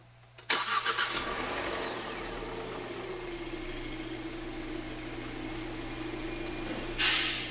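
A 2017 Hyundai Elantra engine cranks and catches, then settles into a steady mid-pitched idle near the microphone, with a brief louder rev or hiss near the end.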